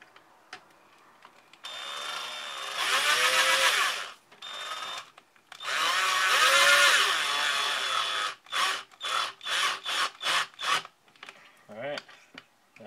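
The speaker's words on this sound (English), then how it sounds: "finish it off with the drill" A power drill whirs in two long bursts, then a rapid series of short trigger pulses as the screw is driven home, fairly close.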